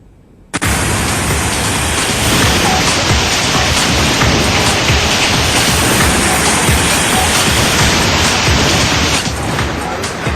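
Floodwater torrent surging during heavy rain in Himachal, a loud, unbroken roaring rush of water that starts abruptly and holds steady throughout, with no voices.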